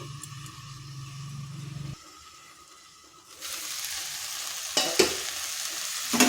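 Ivy gourd (kudri) fries in an uncovered pan with oil and no water, a soft sizzle that swells into loud crackling and scraping as it is stirred, close up.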